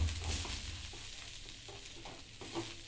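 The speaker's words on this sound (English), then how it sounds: "So now we will add coconut in it. And now we will mix it properly." Chopped onion and coconut stirred together in hot oil, a steady close sizzle broken by a few soft spoon scrapes against the pan, with no one talking.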